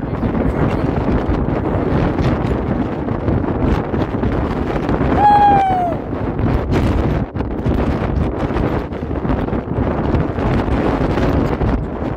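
Strong wind buffets the microphone on a hill trek up to the Savitri Mata Temple in Pushkar, a loud constant rumbling roar with gusty surges throughout and a brief thin whistle partway through.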